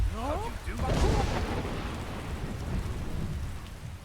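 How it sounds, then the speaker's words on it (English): Steady heavy rain pours in Skyrim while a deep thunder rumble rolls through, loud and close, with a voice speaking briefly over the storm at the start. "I really should get rid of this rain."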